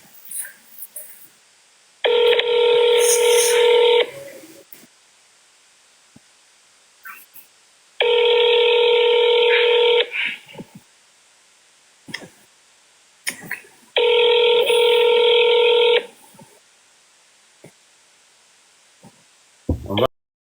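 Ringing tones of an outgoing telephone call in a recorded phone conversation, three long steady rings separated by pauses, fairly loud, with faint clicks and brief noises in between.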